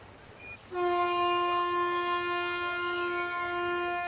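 A passenger train bound for Goa stands at a station and sounds a loud, sustained horn that holds steady for several seconds after a faint opening tone.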